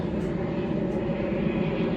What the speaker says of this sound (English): You hear all these planes?